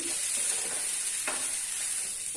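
A spoonful of oil sizzles steadily in a pan while food is sautéed, a constant close hiss with one brief scrape of stirring.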